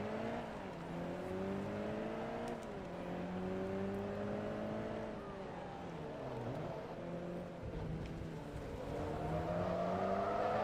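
Nissan Skyline R34 engine in the Forza Motorsport 2 racing game, a steady high-pitched drone that rises and falls as the revs climb and drop with gear changes, running continuously with no talk.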